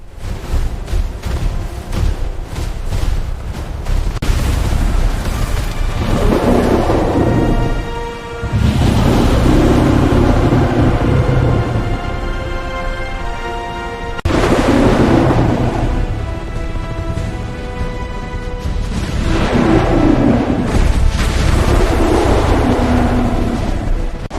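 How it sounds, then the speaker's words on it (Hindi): Heavy, continuous rumbling booms roll and swell over a dense mechanical roar of tanks in a battle, with thunderous explosions repeating every few seconds, loud and close. "चारों तरफ मशीनों और धमाकों की आवाज गूंज रही है"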